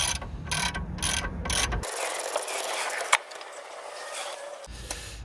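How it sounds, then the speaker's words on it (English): A torque wrench tightens a track rod end on a BMW 5 Series E60, giving rapid close ratchet clicks in a quick burst, then quieter mechanical turning with a single sharp click. "we'll torque it up to 80 newton meters"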